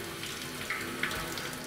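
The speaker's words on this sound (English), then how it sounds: "Simply use the tap to fill the entire hose and siphon rod with water" Tap water runs steadily into a siphon hose and rod for winemaking, a continuous close hiss and splatter with no talking.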